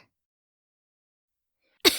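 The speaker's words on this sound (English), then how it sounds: "She coughs to break the awkwardness but finds it does nothing at all." One short, sharp cough breaks a long stretch of silence near the very end.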